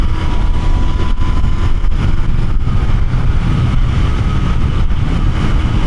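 Engine drone of a Royal Enfield Continental GT 650 motorcycle cruising on a highway, a steady low rumble mixed with wind roar, continuous and fairly loud throughout with no talking.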